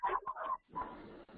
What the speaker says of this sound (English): I think I still hear your dog.